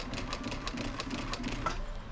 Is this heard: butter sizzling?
no